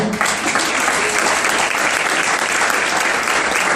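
Sustained audience applause at a St. Jude charity fun run speech event, dense and steady clapping from a crowd filling the whole stretch at a fairly loud level, with no speech over it.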